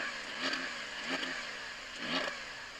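A Porsche 911 Turbo S engine revs up three times in quick bursts, each swell rising and dropping back, heard from a short distance.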